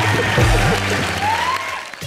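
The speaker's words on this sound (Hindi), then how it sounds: "तो जोरदार तालियां हो जाए करण वाही के लिए" Studio audience applause on a Hindi comedy television show, loud continuous clapping layered with music and a bright rising tone, filling the whole short stretch.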